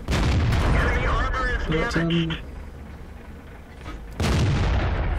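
Tank cannons fire in World of Tanks, loud booming blasts at the start and again near the end, with someone talking over the opening shots and the quieter battle noise between them.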